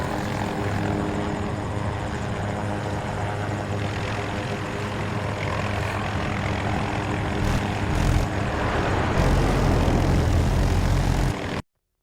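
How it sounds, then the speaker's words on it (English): MD-540 Nightbird scout helicopter in Battlefield 2042, with a steady rotor and engine drone that holds loud and close throughout and swells slightly near the end before cutting off. "MD-540 Nightbird is a scout helicopter with 4 seats."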